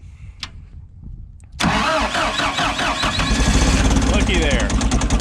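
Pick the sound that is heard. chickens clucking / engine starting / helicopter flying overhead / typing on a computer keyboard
engine starting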